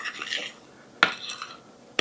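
A spoon clinks against a mixing bowl while coffee cake batter is stirred by hand, soft scraping followed by two sharp distinct clinks about a second apart, close and alone.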